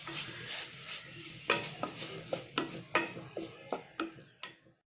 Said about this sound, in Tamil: வதக்கணும்.